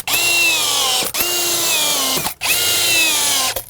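A drill drives screws through an exterior door frame into the sill, with three loud, close whining runs separated by brief pauses.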